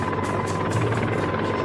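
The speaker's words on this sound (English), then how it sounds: "This helicopter performed well at transporting very heavy cargoes" A Mi-26 heavy transport helicopter running steadily, a dense droning rotor and turbine roar with a rhythmic beating pulse, loud and close with no voices.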